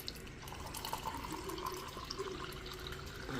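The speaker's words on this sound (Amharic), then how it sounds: "ውሃችንን እንሞላና" Water pours into a container holding three spoons of ground flaxseed, a steady close trickling and splashing fill sound that continues evenly throughout, with no voices.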